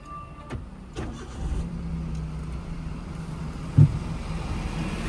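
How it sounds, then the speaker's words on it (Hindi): A manual car's engine is cranked and starts with the clutch pressed, settling into a low steady idle rumble with a brief thump midway; nearby and moderately loud, with no talking. "अभी इंजन ऑन करिए।"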